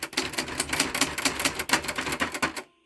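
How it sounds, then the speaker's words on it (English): An old manual typewriter clatters rapidly on scrap paper in a dense, uneven run of close key strikes lasting nearly three seconds, then cuts off abruptly into silence. "I figured I'd try the old typewriter out, the new one."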